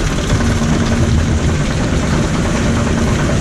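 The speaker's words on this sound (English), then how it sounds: "Climbing up that lift hill" The Twister, a spinning mouse roller coaster at West Midland Safari Park, climbs its lift hill with a loud, steady mechanical rumble and a constant low hum from the lift running throughout.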